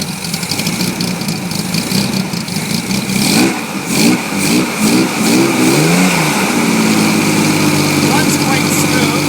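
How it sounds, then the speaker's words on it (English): A 1966 Chevrolet Corvair Monza convertible with its 140 hp engine and header exhaust revs up several times in short bursts, then settles into a steady idle, recorded up close with some talking over it. "if we just give this a little bit of a rev here, you can appreciate what it sounds like"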